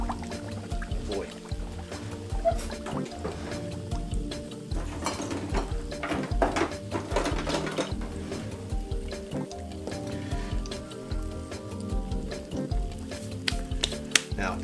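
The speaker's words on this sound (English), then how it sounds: "Now, as this is frying" A flour-coated country fried pork chop fries in a pan, giving a steady loud sizzle and crackle with irregular pops and scrapes throughout.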